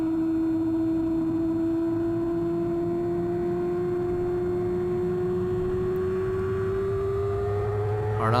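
A superstock race car engine pulls hard at full throttle on a wet track. It makes a loud, sustained drone whose pitch climbs slowly and steadily as the car accelerates, and there is no talk over it.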